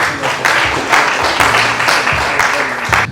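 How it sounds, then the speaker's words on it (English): Audience applause for an author at a book launch event, a sustained wash of clapping from a roomful of people with scattered voices mixed in. "Please give him a round of applause."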